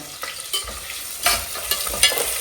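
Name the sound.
chopped onion and green chillies frying in oil and ghee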